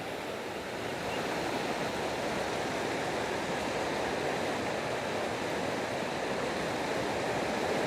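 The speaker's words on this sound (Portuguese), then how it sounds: "Não sei se vai ajudar a ouvir a água agora, né?" Water flows in a steady, even rush of broadband noise that holds constant for the whole stretch, moderately loud with no talk over it.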